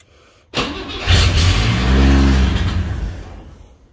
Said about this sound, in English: Now that I got the carb coated in gas, see if it'll fire.